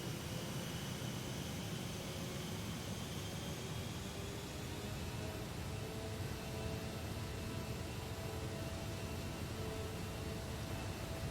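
Jet engines of an Aerosoft DC-8 airliner spool up for takeoff in a flight simulator, making a steady, dense roar with a faint rising whine that holds evenly throughout.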